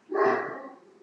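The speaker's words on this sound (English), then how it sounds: "Sorry about my dogs barking." Pet dogs give a single short bark indoors at moderate volume, sounding a little muffled, then fade into quiet with no talking.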